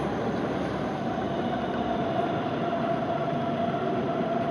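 Train rumbling steadily near the end of the railway station at Hamburg harbor, a continuous close, loud rolling drone with a faint tonal whine, heard alone without voices.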